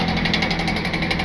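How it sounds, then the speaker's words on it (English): Steady rapid pounding of a jackhammer at roadwork near the Continental Divide, continuous and loud, with a dense mechanical rattle throughout. "jackhammer"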